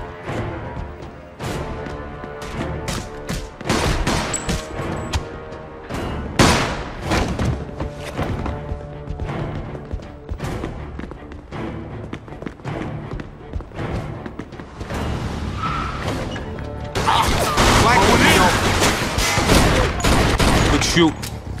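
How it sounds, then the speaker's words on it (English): A loud Mafia II shootout with dense, continuous gunfire, thuds and impacts, growing into a heavy, sustained volley near the end, while voices shout over the shooting. "Stop shooting that fucking thing!"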